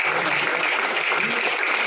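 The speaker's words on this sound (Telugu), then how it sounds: "ఒకసారి అందరూ గట్టిగా క్లాప్స్ ఇద్దాం" A crowd of listeners claps loudly and steadily together, a dense continuous wash of applause close by with no break across its short span.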